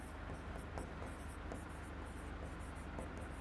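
Chalk or a marker scratches across a board in short, rhythmic strokes during a physics lesson, faint and steady over a low background hum.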